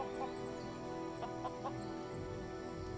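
Chickens cluck in short, sparse calls in the Lego Worlds video game, faint against a steady layered background tone of game ambience.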